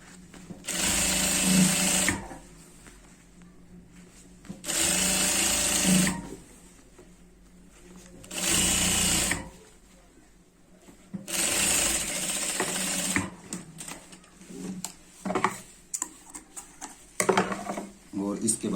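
Sewing machine stitching a trouser waistband runs in four loud bursts of two to three seconds each, with pauses between them. Faint handling noises and clicks fill the gaps, and the last few seconds hold scattered mechanical ticks.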